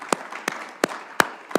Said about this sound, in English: everybody is clapping for you here at UN headquarters